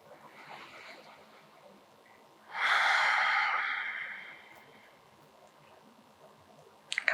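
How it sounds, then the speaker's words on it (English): A long, deep breath drawn in and released during a beginner yoga stretch, a broad airy rush lasting a couple of seconds and fading slowly, close and clear against a quiet room. "Deep breath."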